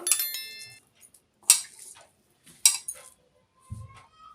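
A lid is set onto a bowl of marinated chicken, giving a few separate sharp clinks and clatters spread over about four seconds, with a soft low thump near the end.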